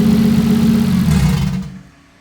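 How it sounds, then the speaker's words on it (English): A car with a 2JZ engine idles steadily after its first start in three years, a loud low rumble that drops away to near quiet toward the end as the engine dies. "I let the car idle for a while so that it could break in the engine"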